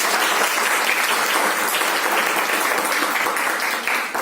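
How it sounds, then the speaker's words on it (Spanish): Sustained audience applause in a lecture hall at a qualitative research introduction session, steady and dense throughout with no pauses, tapering slightly at the very end. "Un aplauso para ella, por favor."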